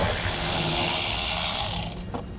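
Power driver backing a T15 Torx screw out of a truck fender during a fifth-wheel hitch install on a 2016 Chevrolet, heard as a steady close mechanical whir and ratcheting buzz that cuts off near the end.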